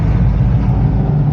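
A supercharged Chevy Nova engine rumbles loud and close in a steady, dense low roar with no pauses.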